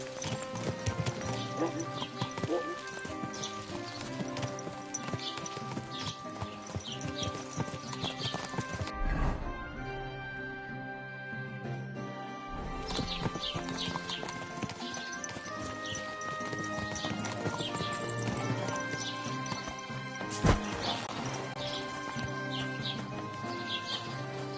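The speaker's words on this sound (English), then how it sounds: "Is this your first time riding a horse?" Steady clip-clop of horse hooves at a trot in Kingdom Come: Deliverance 2, with a horse whinnying and a music score playing throughout, plus a brief pause midway.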